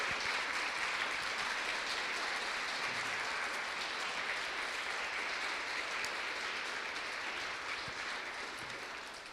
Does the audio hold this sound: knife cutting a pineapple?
no